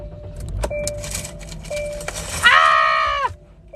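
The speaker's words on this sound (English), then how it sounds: "I'm going to turn on my car and charge my phone real quick." A car engine cranks and catches near the end, a strained harmonic whine rising for about a second over a steady background hum, with scattered clicks and faint rustling before it.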